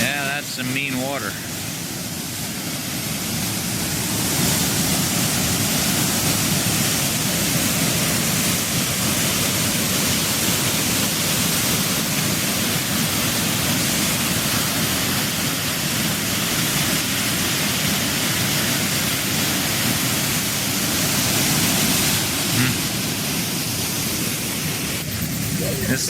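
Huka Falls near Lake Taupo, New Zealand, a loud continuous roar of rushing waterfall water, broadband and unbroken, close by.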